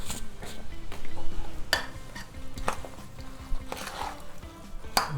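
Raw stuffed mushroom filling being stirred in a bowl: a spoon scrapes and clinks against the sides in uneven strokes, with wet squelching and a few sharper knocks, close and fairly loud, with no talking.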